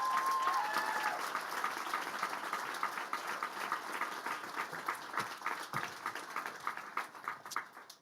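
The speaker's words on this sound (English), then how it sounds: "let's give them one more round of applause" An audience at a tech demo day event at Google headquarters applauds in a steady, full round of clapping that gradually thins and fades toward the end.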